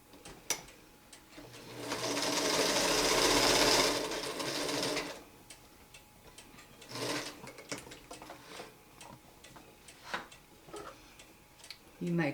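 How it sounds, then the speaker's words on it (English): A sewing machine stitches a seam on a log cabin quilt block in a close, rapid whirring burst of about two seconds, then shorter runs and soft ticks follow amid quiet handling. "And I'm going to sew it on."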